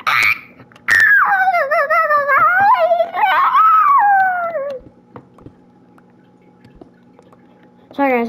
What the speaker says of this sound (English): Sorry, guys, that was my dog.